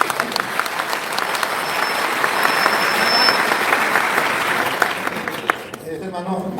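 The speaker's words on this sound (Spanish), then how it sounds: "un aplauso, bueno, un aplauso" A church congregation gives a long, steady round of applause at a preaching event where a pastor addresses Catholics, loud and full before fading out near the end, with a voice coming in.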